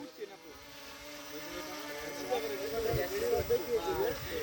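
A cheap 4000-taka toy drone lifts off on its first flight. Its motor whine starts faint, then rises and wavers close to the microphone while people talk nearby.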